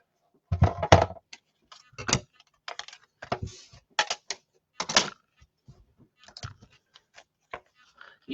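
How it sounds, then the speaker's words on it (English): Stampin' Up Cut and Emboss die-cutting machine cranked by hand as a paper leaf shape is fed through, a close series of irregular clicks and clunks spaced out over several seconds in a quiet room. "Put it through the Stampin' Cut and Emboss."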